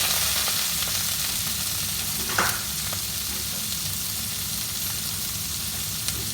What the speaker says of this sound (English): just going to stir fry them for a minute or two